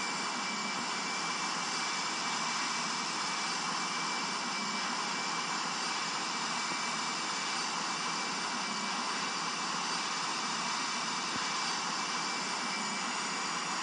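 A simulated airplane engine from a flight game at Long Beach airport, holding a steady, broad jet-like roar with a high whine on top, constant and uniform throughout with no voices.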